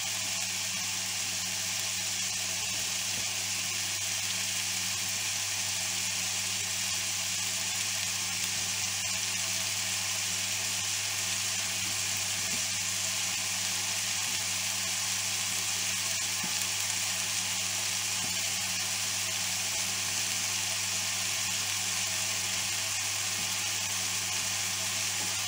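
Bacon lardons and onions frying in a pan, a steady loud close-up sizzle that continues unbroken throughout with no talking.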